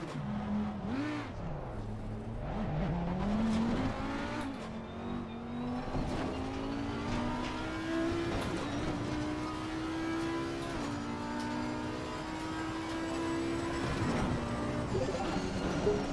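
Race car in Assetto Corsa Competizione driving a lap, its engine droning loud and close with pitch climbing through the gears, brief tire squeal and skidding, and a voice talking over it.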